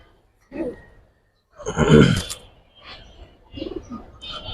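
Fancy colored pigeons for sale at a bird market coo in a few soft, throaty bursts, close by and moderately loud, with brief pauses between calls.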